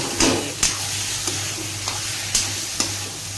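A masala mix for stuffed bitter gourd roasts in a pan with a steady sizzle, punctuated by about six short scraping strokes of the spatula at irregular intervals.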